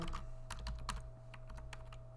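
Someone types on a computer keyboard, a quick irregular run of crisp key clicks up close over a steady low electrical hum.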